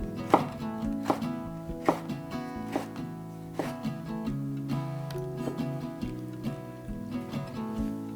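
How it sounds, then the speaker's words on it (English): Vegetables for canning salsa are chopped on a cutting board, a series of sharp knife knocks at an irregular, unhurried pace, with soft background music. "the first thing that we need to do is just get everything chopped up into manageable sized pieces"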